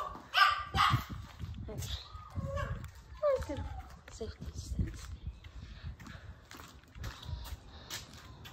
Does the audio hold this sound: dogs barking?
yes